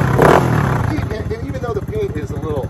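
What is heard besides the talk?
Tao Motors T-force ATV engine revving with custom exhaust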